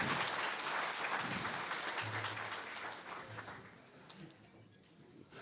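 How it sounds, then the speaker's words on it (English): Applause from an audience at an Indigenous cleaner energy forum, following a lunch-hour dancing demonstration, steady, dense and fairly loud at first, then gradually thinning and fading toward the end. "Round of applause."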